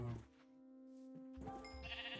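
Sheep in the video game Minecraft bleat, a few short wavering calls standing out over a steady tonal game backdrop, fairly close and clear with no talking.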